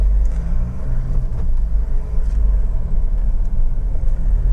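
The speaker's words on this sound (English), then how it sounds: "the engine, it's just a lovely, lovely unit to use day in, day out" A Honda CR-V 2.2 i-DTEC diesel 4x4 engine runs while driving, a steady low rumble with road noise from inside the cabin, smooth and even without sharp revving.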